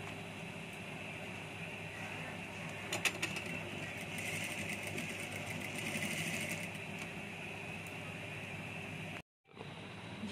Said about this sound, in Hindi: अब मैं स्टिच करने जा रही हूँ